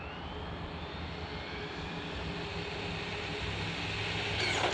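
A Hosim X08 RC truck's electric motor runs at maximum speed, giving a steady high whine that swells slightly as the truck speeds along, faint and without talking.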